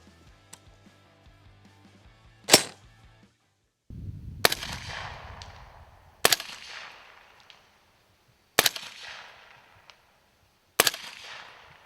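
Five suppressed subsonic gunshots through an AAC Ranger 7 silencer, each a sharp crack followed by a brief decaying tail, spaced a couple of seconds apart outdoors with quiet gaps between.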